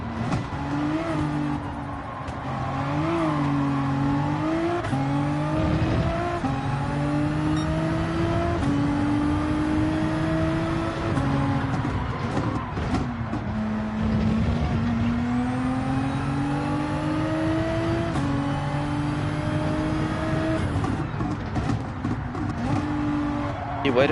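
Race car engines roar in Gran Turismo 7 while racing a McLaren and a Mustang, rising and falling in pitch through repeated gear shifts and accelerations, loud and continuous throughout.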